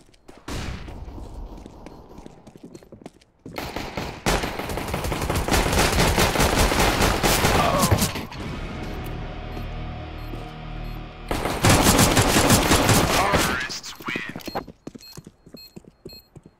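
Gunfire in the video game CS:GO during a bomb-planted round: long, loud bursts of rapid automatic fire broken by short gaps and single shots.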